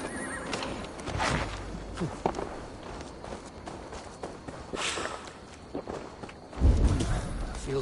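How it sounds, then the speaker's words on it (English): Horse whinnying and hooves clip-clopping in the video game Assassin's Creed Valhalla, a neigh near the start and a louder thump later, with footsteps and soft background sounds between. "Now to deliver Magni his horse."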